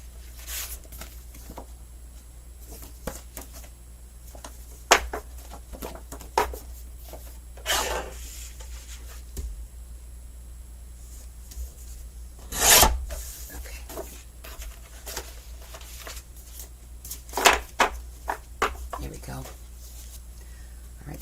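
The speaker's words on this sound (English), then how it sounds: "Oh, I have to cut the images too, I forgot." Paper prints, 8.5 by 11 inches, are trimmed half an inch on each side, giving intermittent soft rasping cuts and sharp rustling snips spread across the stretch, heard close amid quiet room tone and occasional handling noises.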